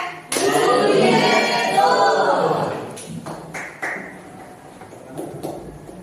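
A classroom group of students claps in a one-two-three rhythmic pattern, a burst of loud clapping at first that thins into a few scattered sharp claps, with voices mixed in.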